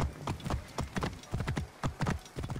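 Rhythmic clip-clop of horse hooves at a quick gallop in the video game Assassin's Creed Origins, fairly close and steady, with no talking over it.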